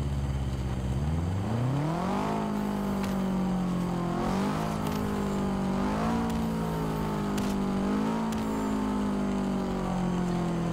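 Car engine in the Forza racing game revving up and holding a strong, continuous whine that climbs and dips through gear changes, close and loud without any talk.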